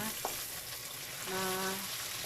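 Tomatoes sizzle and crackle steadily in a hot pan, close up, with a faint scrape of stirring.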